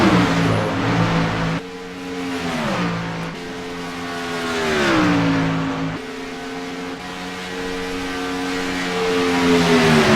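Race cars lapping at Talladega in a 55-lap evening race, with engines droning loud and steady, pitch rising and falling in long sweeps as cars pass and accelerate, no talking.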